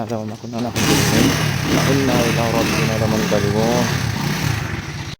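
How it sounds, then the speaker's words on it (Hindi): A motorcycle engine starts with a sudden rush of noise and settles into a steady, loud idle, with someone talking over it close by. "तो भैया बाइक भी स्टार्ट हो गई है।"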